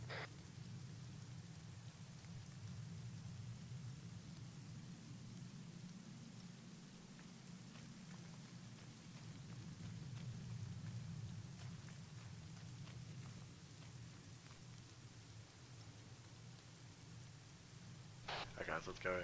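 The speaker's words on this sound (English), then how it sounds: "I'm hoping that's Thunder I'm hearing." Steady rain keeps up through a game battle, with low rumbling that could be thunder rolling underneath; a voice speaks over it now and then.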